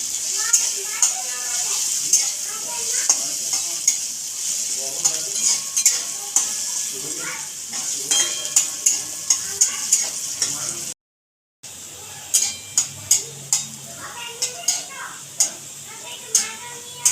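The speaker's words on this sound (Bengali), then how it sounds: "রসুনটা আমি লাল করে ভেজে নেবো।" Garlic frying in oil in a pan for mutton curry while a spoon scrapes and stirs, giving steady close sizzling with sharp repeated clinks and scrapes and a brief dropout midway. Someone talks over it.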